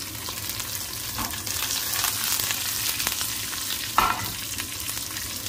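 Coriander and curry leaves hiss and crackle as they hit hot ghee for a sambar tempering, a dense, continuous sizzle up close with one sharper pop partway through.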